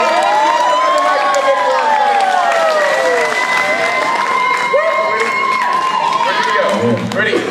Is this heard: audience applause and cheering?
yes